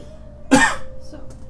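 A single sharp cough bursts out close to the microphone in a quiet room, brief and loud against a faint steady background hum.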